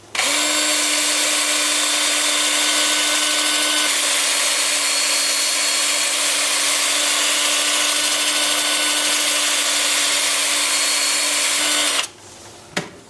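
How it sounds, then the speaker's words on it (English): A steady, loud whirring drone with a high-pitched abrasive hiss from a 2-inch sanding disc on a wood lathe spinning at 385 forward, runs continuously, then cuts off abruptly near the end leaving a brief clunk. "the 2-inch sanding disc with the lathe spinning at 385 and forward."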